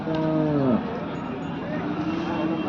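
A bull at the Karad cattle market gives one deep, drawn-out moo at the start, which then gives way to the murmur of the busy market.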